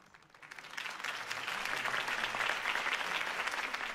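Crowd applause at a political campaign rally in Batman: The Telltale Series, a burst of clapping that swells within the first second and then holds as a dense, steady roar of many hands.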